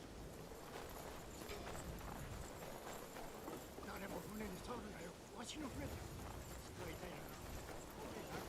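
Horse hooves clip-clop in Assassin's Creed Shadows as a mount sets off, the steady footfalls mixed under a dense game soundscape with voices talking over it throughout.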